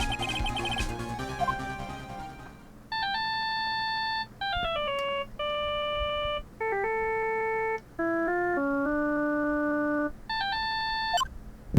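Synthesized phone ringtone from Ace Attorney 2, a melody of steady electronic tones in repeated short phrases, loud and alone, following a brief stretch of background game music.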